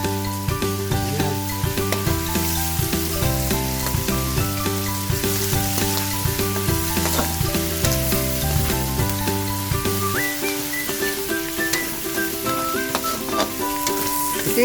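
Crushed garlic frying in oil for chop suey gives a loud, continuous sizzle throughout, with background music playing underneath.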